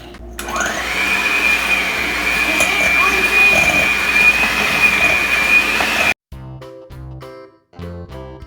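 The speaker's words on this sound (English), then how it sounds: "Let's get the mixer." An electric hand mixer whirs steadily and loudly for about six seconds while mixing blueberry muffin batter, then cuts off abruptly, with a few brief clicks and knocks afterward.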